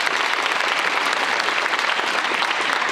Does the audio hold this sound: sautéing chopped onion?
no